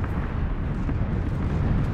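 A heavy, sustained booming rumble of bomb blasts from the video game PUBG, loud and dense throughout with no voices.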